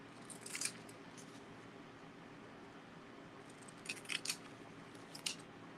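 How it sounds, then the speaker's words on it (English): Adult-size scissors snip through foil in short bursts of crisp, bright cuts, a few quick snips early and another cluster near the end, faint and close over a hissy room background with no talking. "let's cut these. How about we use an adult size pair of scissors, Terry?"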